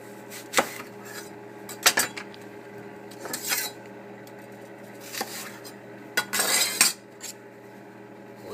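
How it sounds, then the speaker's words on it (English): A knife chops half an apple finely on a cutting board for chicken and apple patties: irregular, close clacks and knocks come in small bursts of two or three, with light clattering of utensils between them and no speech. "We chop our apple."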